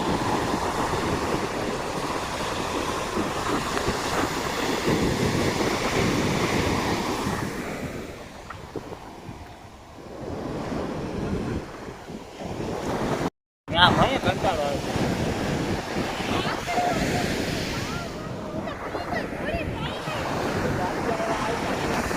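Big open sea surf breaking along a shore with large ships out on the water, a steady broad roar of waves mixed with wind buffeting the microphone, continuous throughout with a brief dropout midway.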